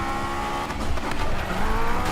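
A Honda S2000 in Need for Speed, driven with a Logitech G27 wheel, slides with loud tire squeal over a steady roaring engine, close and continuous.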